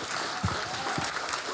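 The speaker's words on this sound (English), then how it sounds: "One more time, give a big applause to Helene." Audience applause at a PKN Ubud talk night, a short dense burst of clapping from a crowd with a voice briefly rising underneath.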